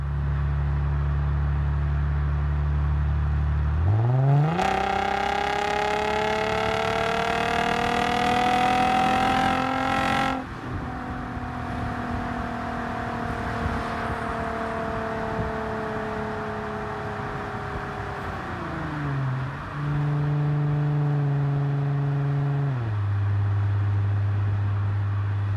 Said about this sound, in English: Next up, I will quickly downshift 3 times into 3rd gear.